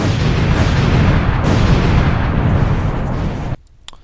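A loud, sustained roaring blast of an explosion fills the clip with dense rumbling noise, then cuts sharply to near silence with a few faint crackles.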